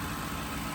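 A Ford Crown Victoria LX with nearly 100,000 miles idles quietly, a steady low engine rumble at moderate distance with no voices.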